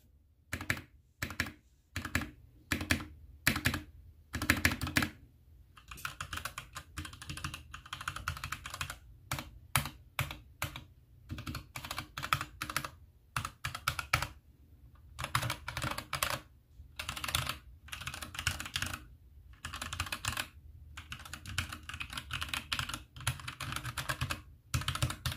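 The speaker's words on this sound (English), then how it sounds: "I have for the keyboard is the AN Pro 2 with Cherry MX Browns." Typing on an AN Pro 2 keyboard fitted with Cherry MX Brown switches: close, crisp keystrokes in fast bursts and rolling runs, broken by short pauses, with no talking.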